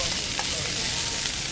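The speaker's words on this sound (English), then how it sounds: "See how we're getting a nice sear?" Pork chops brined in peach tea sear in a pan over high heat, giving a steady, close, loud sizzle that runs without a break and has no voices over it.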